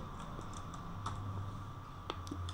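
Typing on a computer keyboard during a jQuery coding lesson, a few scattered soft key clicks over steady room hum with no speech.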